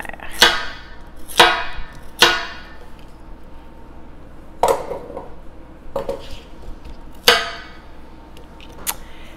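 Vegetables dropped one after another into a metal cooking pot on a kitchen stove, about seven sharp clunks and clatters spaced irregularly, close and fairly loud with quiet gaps between them.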